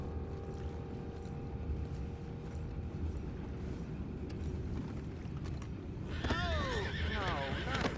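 Horses whinny and neigh in the video game Red Dead Redemption 2, bursting out near the end over a dense rumbling background of hooves, wheels and ambient noise, with no talking.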